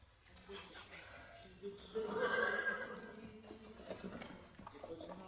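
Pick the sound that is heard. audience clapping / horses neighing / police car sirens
horses neighing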